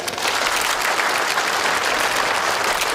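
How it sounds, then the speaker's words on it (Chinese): Sustained applause from a crowd at a corporate celebration reception marking a company's 20th anniversary, loud and steady throughout without a break. "掌声欢迎顾总"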